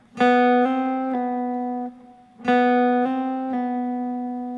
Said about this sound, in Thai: อกนี้เริ่มที่สาย3นะครับให้เพื่อนเล่นแฮมเมอร์ออนพูลออฟนะครับช่องที่ 4 กับช่องที่5นะ จะได้เสียงนี้นะครับ